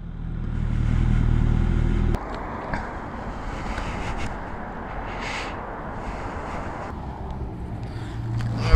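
A Kawasaki ZX6R motorcycle rolls from gravel onto concrete, its engine a low rumble under steady wind buffeting, easing to a lighter road hiss with faint clatter.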